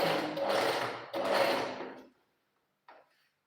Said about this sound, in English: Set my machine on my zigzag stitch, then go ahead and do zigzag stitch